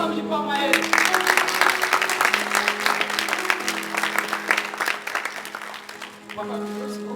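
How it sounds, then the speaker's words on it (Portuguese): Congregation clapping at a family church service, a dense steady round of applause lasting several seconds, with a faint voice and sustained tones underneath before it tapers off. "Você quer dar uma salva de palmas a Ele?"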